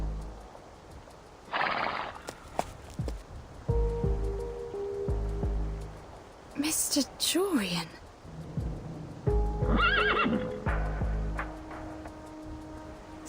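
Horses whinny repeatedly in sharp, rising bursts over a rumbling ambient bed, with thudding hoof sounds and a brief spoken line in between, in the video game Reverse: 1999.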